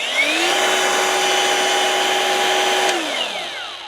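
A ProCraft Industrial AG 125C cordless angle grinder restarts and runs straight at its third speed, a loud steady high whine after a quick spin-up, then winds down at the end, with no voices.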